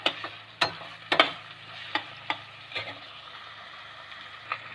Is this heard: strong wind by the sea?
no